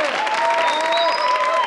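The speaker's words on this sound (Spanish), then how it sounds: "¡Fuerte aplauso!" Crowd at the grand opening of a bar clapping together in a brief, steady burst, with a faint whoop or whistle riding over the applause.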